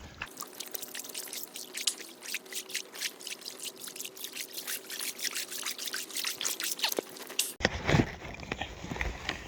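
Bare feet wade across a flooded path in the Scottish Highlands, sloshing and splashing through water in a steady rhythm of close, quiet steps. A louder splash and rustle come near the end.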